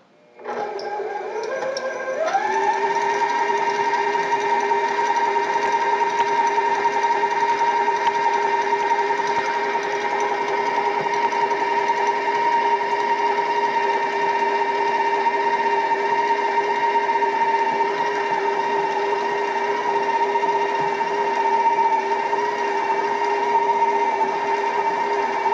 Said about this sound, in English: I'm going to get my paddle attachment on there, get these creamed